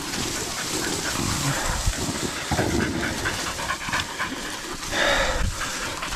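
Pig-hunting dogs panting heavily and steadily up close after a boar hunt in Australia, with rapid breathy rhythm over a rough, noisy outdoor background.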